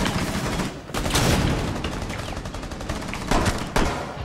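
Rapid semi-automatic shotgun blasts from a Rainbow Six Siege match ring out in a loud burst of overlapping shots, with a brief pause followed by a couple more heavy booms.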